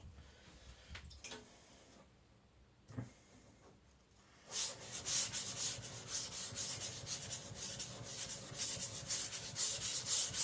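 Abrasive rubbing of a high-performance IKEA Chinese cleaver on a sharpening stone while thinning the blade and forming a shinogi line, starting with faint scattered scrapes, then a steady loud continuous grinding stroke close by.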